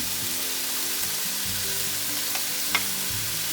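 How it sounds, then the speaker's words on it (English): Onion frying in a pot for Spanish rice with shrimp and chicken, a steady close sizzle with faint stirring clicks and one brief sharper crackle. "So now I'm going to put the onion in"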